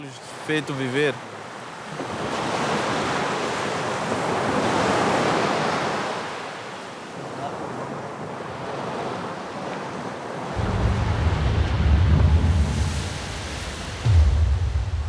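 Ocean surf on the shore of São Tomé, a volcanic island, rolls in as broad swelling washes with wind noise, building and fading, then a heavier rumbling gust near the end.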